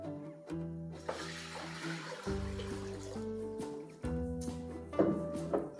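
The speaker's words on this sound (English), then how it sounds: "We're going to add 6 cups of water." Six cups of water pour steadily into a crock pot of beans for a few seconds, a soft splashing rush layered over background music.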